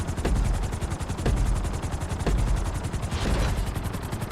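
A helicopter flies in the video game GTA 5, its rotor giving a loud, steady, rapid chop that thumps on without a break and with no talk.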